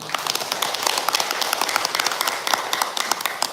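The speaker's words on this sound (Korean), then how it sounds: "박수 한번 쳐주세요." An audience at a Sunday Buddhist service at a temple applauding, dense overlapping hand claps at a steady level for a few seconds.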